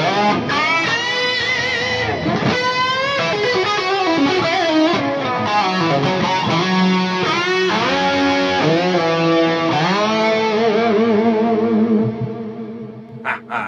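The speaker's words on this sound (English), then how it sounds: "so I have a 2290 on and PCM 70, and it sounds like this" Electric guitar run through blended Eventide/TC 2290 and Lexicon PCM 70 delays in a 1980s-style Marshall rig plays sustained distorted chords and lead lines with lush echo trails, loud and continuous, fading out at the end.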